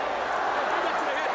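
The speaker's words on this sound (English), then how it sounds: "as the crowd picks up the count" A huge stadium crowd at the 1981 Rose Bowl, Michigan against Washington, roars in a dense, unbroken wall of noise as the final seconds run out, heard from a distance and fairly faint.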